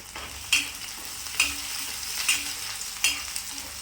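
Onions and peanuts sautéing in a pan for a mixed-sprout usal, a steady low sizzle broken by four sharp scraping stirs spaced about a second apart, close and alone with no voices.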